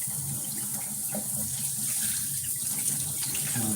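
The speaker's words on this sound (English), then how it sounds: "I gotta finish washing up in the shower." Shower water runs steadily and evenly, a close, constant hiss of spray with no pauses.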